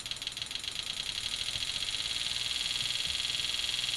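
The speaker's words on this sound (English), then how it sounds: "if you listen to the sound, you can hear the injector speed up" Rapid, even ticking pulses from a running engine's fuel injector quicken and tighten into a faster, steady buzz over a low mechanical hum.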